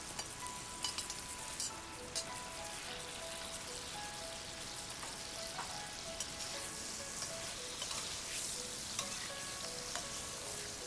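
Bacon and jalapeno stir-fried in a wok make a faint but steady sizzle with frequent light spatters and clicks from stirring, close by, with no one speaking.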